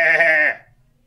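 One short electronic bleat from a Kenner toy goat rings out loud and close, then cuts off quickly into silence.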